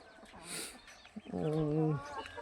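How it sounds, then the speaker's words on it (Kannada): A mother hen and her chicks in a backyard poultry setting, with a short, faint drawn-out hen call after a few soft clucks, heard alone at low volume. "ನಮ್ಮ ತಾಯಿ ಕೋಳಿ ಆಮೇಲೆ ಮರಿ ಕೋಳಿಗಳು ಎಲ್ಲ ಇಲ್ಲಿ ಇದ್ದಾವೆ ನೋಡಿ"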